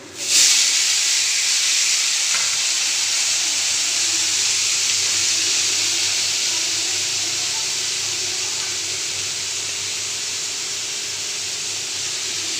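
Water poured into a hot pan while cooking muri ghonto gives a loud, sudden burst of hissing steam that stays steady and slowly eases off over several seconds, with no talking.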